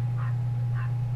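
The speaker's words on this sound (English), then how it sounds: "Yes, that's a stupid dog." Two short, muffled barks from a dog somewhere in the room sound faintly over a steady electrical hum, spaced about half a second apart.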